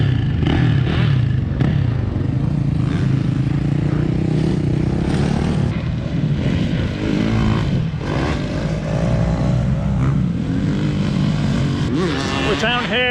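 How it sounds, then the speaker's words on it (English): Motocross dirt bikes ride on a hot, dusty track, a continuous loud engine drone with shifting pitch and overlapping whines, mixed with background talk and wind. "We're down here at the motocross."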